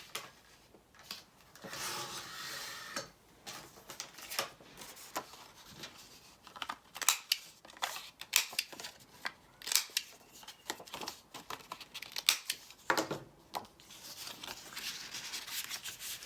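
Scissors trim a paper index card at a craft table, producing a series of close, crisp snipping and rustling cuts in quick irregular bursts, with quieter paper handling between them.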